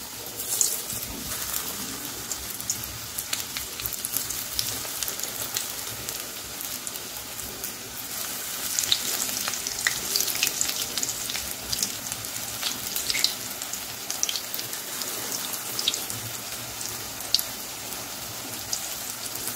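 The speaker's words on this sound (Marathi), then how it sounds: "मीडियम ठेवून भजी तळून घ्यायची" Onion and potato bhaji fry in hot oil over a medium flame, a dense, continuous close-up sizzle and bubbling crackle with no talking.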